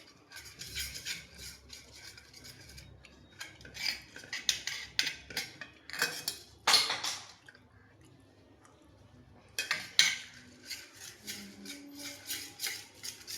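Crushed ingredients are mixed in a bowl with a knife, producing intermittent scraping, clinking and squishy bursts at close range, with quiet pauses between the strokes and no talk.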